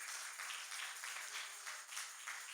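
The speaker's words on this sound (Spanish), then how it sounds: "Dele fuerte el aplauso a Cristo." A church congregation claps for Christ during a worship service, a dense, even patter of many hands that is fairly faint and distant, running steadily for a couple of seconds.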